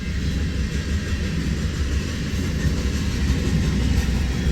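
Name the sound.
eastbound loaded coal train passing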